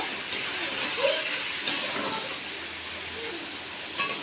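Chopped onions sizzle in a pan for chicken biryani, a steady broadband hiss with occasional stirring clinks, moderately loud and close, with no talking.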